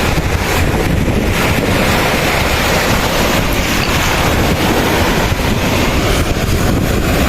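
Powerful ocean waves surging along a shoreline where clams wash up in rough weather, a loud, unbroken roar of surf mixed with heavy wind buffeting the microphone, with no voices.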